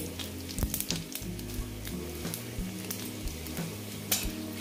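Bay leaf and white cumin seeds hitting hot oil for an egg curry, a close crackling sizzle with scattered clinks and stirring taps from a pan.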